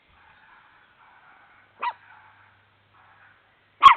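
A dog gives two short, sharp barks a couple of seconds apart, fairly distant against near silence.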